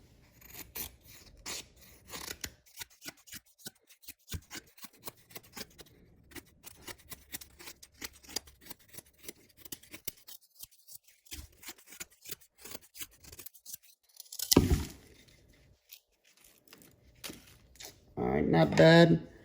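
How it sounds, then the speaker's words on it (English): A Civivi Elementum button-lock folding knife shaves wood in a quick run of short, dry scraping strokes, close and fairly quiet, followed by a couple of louder rubbing bursts. "we're gonna do a little wood shaving just to test out the ergos"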